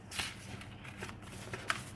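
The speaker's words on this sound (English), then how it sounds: "they are really nice to shuffle" Thick, papery tarot cards being shuffled by hand, a soft continuous riffling rustle with a few sharper flicks, close and fairly quiet with no talking.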